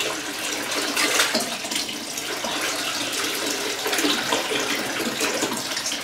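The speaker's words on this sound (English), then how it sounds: "I'm going to submerge the hair in warm water" Warm water running and splashing as hair weave extensions are submerged and soaked, a steady broadband wash of liquid noise close by with no talking.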